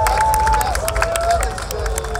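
A crowd at the Hanfparade 2018 claps and cheers for a couple of seconds, close and lively, while a steady tone hums faintly underneath.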